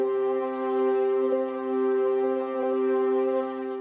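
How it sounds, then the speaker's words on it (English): A sustained synth drone holds the root and fifth of a chord under a spacious pop chorus, with steady layered tones that swell gently at a moderate level and no talking. "I added just a drone playing the 1st and the 5th of the root of the chord"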